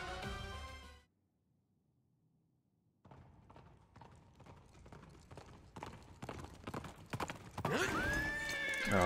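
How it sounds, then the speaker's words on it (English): In the video game Fire Emblem Engage, a mounted cavalier unit's horse hooves clip-clop in a quick, steady rhythm and grow louder. A neigh sounds near the end over game music. "He's on a horse."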